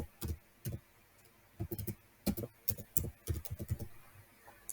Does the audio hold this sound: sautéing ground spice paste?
no